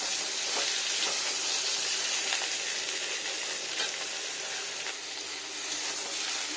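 Steady hissing sizzle of potatoes frying in a pan for a vegetable shukto, close and even, with faint stirring clicks now and then.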